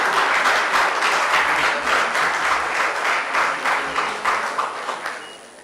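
An audience at a national engineering conference applauds the session chair, a loud, dense round of clapping that gradually thins and fades toward the end.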